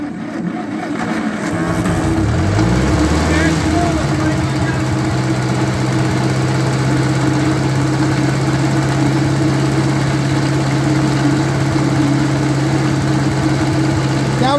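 A 1953 Ferguson TEA20 tractor engine cranks and catches, then idles loudly and steadily with a chugging, vibrating drone close by.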